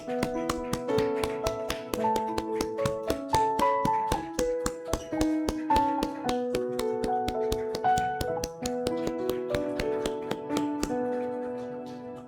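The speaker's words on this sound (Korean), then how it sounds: "우리 아이들의 퇴장할 때 뜨겁게 박수하면서 축복해 주시길 바랍니다" During a Sunday church service, the congregation claps in a steady, even rhythm as the children file out, the regular beats running along with melodic music throughout.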